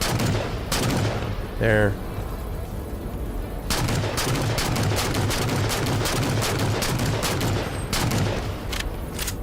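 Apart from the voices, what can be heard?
gunfire shooting at enemies in the video game Halo MCC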